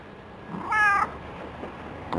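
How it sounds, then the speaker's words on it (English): A cat gives a single clear meow at close range, short and tonal, against a quiet room background with faint shuffling. "What a silly cat."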